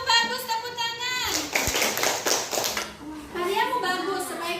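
A burst of hand clapping from a group, with children's voices talking before and after it.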